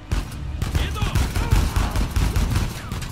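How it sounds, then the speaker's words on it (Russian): Rapid bursts of gunfire from enemy soldiers in Uncharted 4 crackle almost continuously, dense volleys and scattered shots overlapping at close range with no pauses. "Да по мне стреляют"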